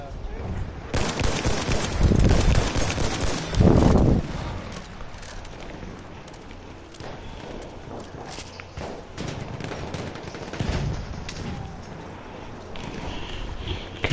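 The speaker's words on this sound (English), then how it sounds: "Machine gun right there!" Machine gun fire in Battlefield at night, heavy bursts of rapid automatic shots up close early on, then quieter scattered firing and footsteps under occasional talk.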